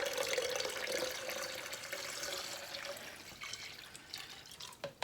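Plain water being poured for a marshmallow tincture, a steady, close, splashing stream of liquid that runs on without talk and thins toward the end with a few drips.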